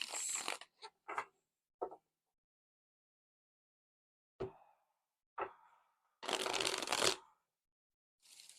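Tarot cards being shuffled in short, crisp bursts of riffling and flicking, close and quiet, separated by silent pauses, with one longer riffle near the end.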